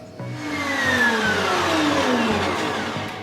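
An electric mixer starts up and whisks an egg and sugar mixture for chocolate fondants, running as a steady loud whir whose pitch glides slowly downward, with no talking.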